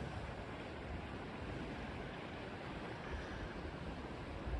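Ocean waves beyond a harbor wash in a steady, faint, unbroken roar with some wind noise, distant and without voices.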